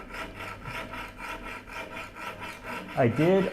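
A file rasping across the teeth of a rip saw held in a Gramercy saw vise, with repeated rhythmic strokes close up and a louder scrape at the end, no talk.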